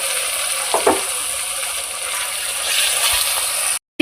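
Chilli powder and spices sizzle steadily in oil in a pan while being stirred for restaurant-style yoghurt chicken, with a brief scrape of the spoon near the start and a continuous hiss throughout.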